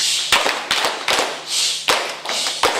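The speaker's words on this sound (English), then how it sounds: "Come on, let's clap it up, guys." A group of schoolchildren clap together in a classroom or school hall, with a few ragged bursts of clapping close by and a faint steady hum underneath.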